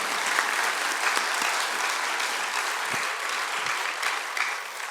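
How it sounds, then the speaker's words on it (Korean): An audience at a talk gives a round of applause, with steady, dense clapping throughout and a few soft low thumps scattered within it. "일단 박수 한번 주시면 감사합니다."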